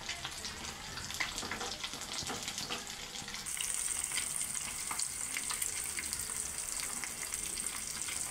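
Fish pieces fry in a pan in a home kitchen with a constant close sizzle and crackle, and a tap runs with a hiss partway through.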